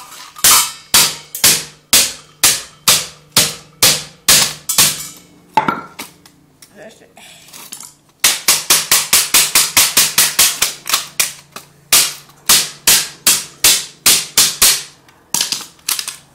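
Rapid, sharp hammer blows in fast bursts, loud and close, with a short pause before another quicker run of strikes.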